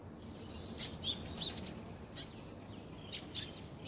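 Soft chirps and faint wing flutters of racing pigeons inside a loft, over a steady low background hum, distant and fairly quiet.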